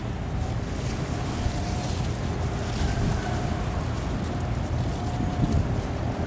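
A rice-carrying wooden boat speeds along a river through strong waves, giving a steady, loud rumble of engine and rushing water with wind buffeting the microphone throughout, and no voices.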